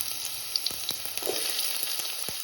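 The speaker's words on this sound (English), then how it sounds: "And let it just fry for a couple of minutes until it becomes a bit soft." Chopped onion frying in hot oil in a pan over a medium flame, a steady close sizzle with scattered crackles and a few soft pops, with no one talking.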